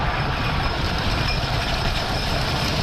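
Gravity Group Timberliner train running along a wooden roller coaster track, a steady dense rumble with rattling clatter, continuous and fairly close with no voices.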